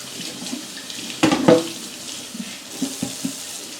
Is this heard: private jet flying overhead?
no